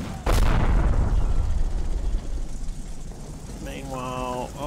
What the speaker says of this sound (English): this one's getting shot now by the half-track